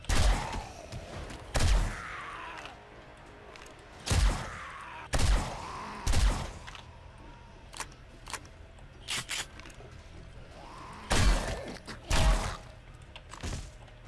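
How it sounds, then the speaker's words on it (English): Fast, heavy thuds and crunching impacts of something being smashed apart in the 7 Days to Die video game, inside a police building, coming in loud irregular bursts with quieter gaps between them. "I hear someone breaking things pretty quickly"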